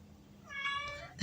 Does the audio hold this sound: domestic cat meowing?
yes